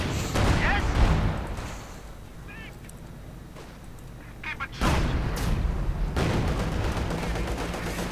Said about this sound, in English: Mortar rounds going down.